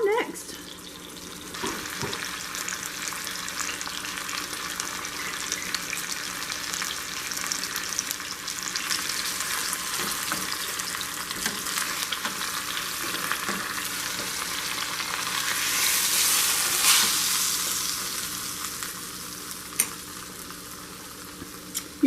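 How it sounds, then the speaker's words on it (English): Pot roast beef browns in a hot pan with a steady, close sizzle and frying crackle that swells briefly toward the end, with no talk over it. "And you can hear that sizzle. We just want to brown this good"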